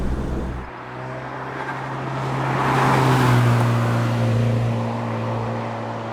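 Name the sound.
Zenos E10 R car engine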